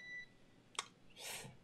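Electronic beeps sound during a SpaceX Crew Dragon launch broadcast: a faint tone at the start, then a sharp short beep mid-clip, followed by a softer burst of noise, all quiet with no speech.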